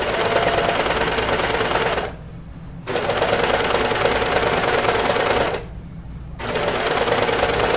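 A cover stitch sewing machine runs a sweatshirt seam in two long steady bursts of rapid stitching, each several seconds, broken by a brief pause, close and loud.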